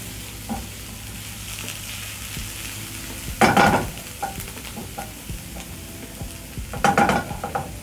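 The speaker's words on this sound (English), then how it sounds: "So you'll cook the garlic until fragrant." Garlic cooks in a hot pan with a quiet, steady sizzle, punctuated by two louder bursts of stirring and scraping, close up and without any talk.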